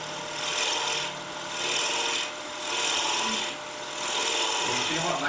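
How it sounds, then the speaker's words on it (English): Spindle gouge cutting a wood turning on a lathe, four rasping scraping strokes in a slow, even rhythm, close and continuous with no talk. "Just make a divot with my spindle gouge. And then pull outward."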